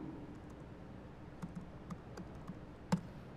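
Sparse, faint key presses on a computer keyboard tap out a few scattered strokes over a low background hum, with one sharper click near the end and no voices.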